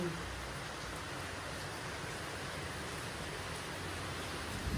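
Steady rain falls outdoors in a soft, even hiss that holds at the same faint level throughout, with no other sound standing out.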